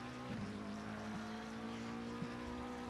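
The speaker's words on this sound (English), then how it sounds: "you could probably turn up the engine noise a little bit more" A race car engine in Assetto Corsa Competizione, racing at Zolder, drones steadily and quite faintly with a continuous tonal hum and small shifts in pitch, with no voices over it.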